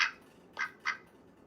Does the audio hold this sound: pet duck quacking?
yes